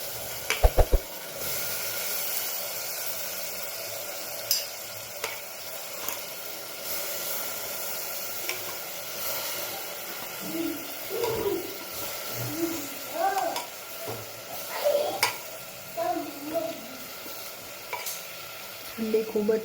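Onions and potatoes fry in a pan with a steady low sizzle, while a spoon or spatula stirs and scrapes in scattered bursts, loudest near the end.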